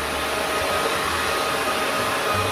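A hair dryer blows continuously during an at-home hair bleaching, a close, steady whooshing drone with no change in pitch or loudness and no talk over it.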